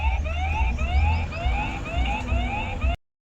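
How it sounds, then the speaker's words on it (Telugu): A security camera's electronic siren wails in rapid repeating upward sweeps, loud and close, over a low hum, then cuts off abruptly near the end. "ఇగో సైరన్"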